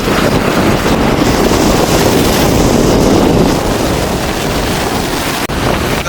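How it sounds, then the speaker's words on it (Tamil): Heavy, aggressive sea waves crash and churn on the Jaffna coast under a loud, constant gusting wind that roars across the microphone, no voices heard. "பெரிய பெரிய கடல் அலைகள்"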